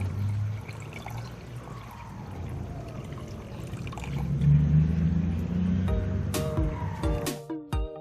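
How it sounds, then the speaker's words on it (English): Nitric acid diluted one to one with water poured into a container, a steady liquid pour with a louder gush midway, followed by a few sharp clinks and knocks near the end. "I use nitric acid mixed with water 1:1."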